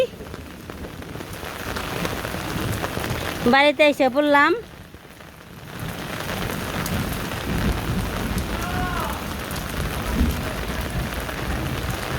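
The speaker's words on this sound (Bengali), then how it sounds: "এই যে দেখেন বৃষ্টি" Steady hiss of rain falling throughout, with a brief warbling voice in the middle and a short spoken phrase under the downpour.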